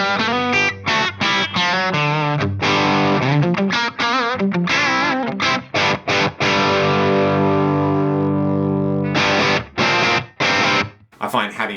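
A heavily distorted electric guitar roars through a Marshall Vintage Modern amp with the bass turned up to 8, loud close chords and sustained ringing notes with choppy pauses between strums.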